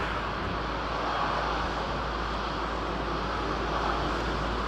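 A Boeing 787 Dreamliner at London Heathrow gives off a steady, even jet roar that holds at one level for the whole stretch, with no voices over it.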